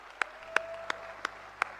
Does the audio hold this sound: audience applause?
yes